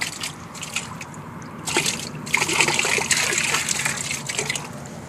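Water splashes and trickles close by as fine black sand concentrates are rinsed clean by hand, with steady dribbling and sloshing that swells louder in the second half; no talk is heard.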